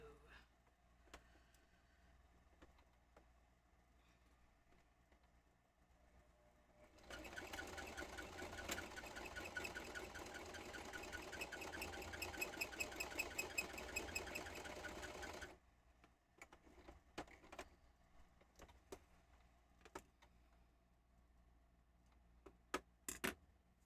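A sewing machine stitches a seam in fabric, a steady, rapid mechanical run lasting about eight seconds in the middle, with a quiet room and light handling sounds before and after.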